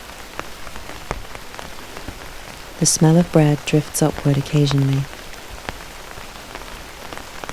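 Steady rain patters on a street in the background while a calm voice narrates over the middle of the stretch.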